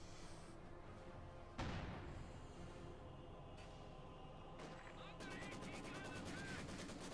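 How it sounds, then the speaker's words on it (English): Gunfire in a Company of Heroes 2 battle, with a sharp nearby shot or explosion and then scattered distant firing, ending in a stretch of rapid machine-gun rattle under steady battlefield rumble. "Bit of firing around the centre."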